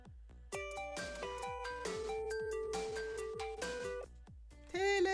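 A telephone rings in the Tomb Raider 2 game, a chiming electronic ring that repeats several times over a soft, regular background pulse, with a higher tone near the end.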